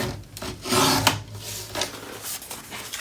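Paper being trimmed for a scrapbook mini album page gives off rough, rasping cutting strokes close by, in short uneven bursts with no talking.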